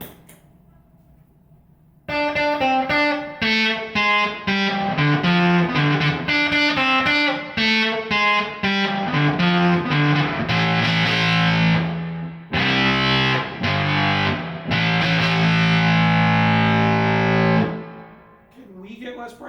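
Electric guitar through a fuzz pedal, a dense, saturated run of riffs and sustained chords played loud and close for most of the stretch, with a short break near the middle before it rings out and fades.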